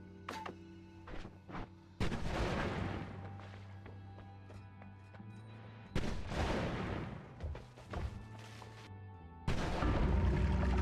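A ball lightning spell with heavy spread detonating in a wand-building video game, giving several loud booming blasts with crashing rumble that drops away and then swells again, without voices.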